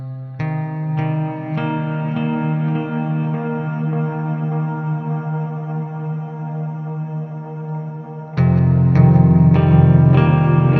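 Electric guitar plays a tapped riff through a big reverb effect, notes ringing and washing out into a long sustained tail before a louder, denser strum section kicks in near the end.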